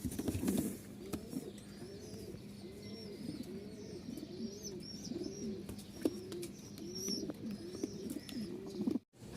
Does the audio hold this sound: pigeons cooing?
yes